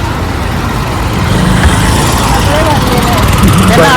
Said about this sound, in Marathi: रिक्षा येत आहेत पण थांबत नाहीत.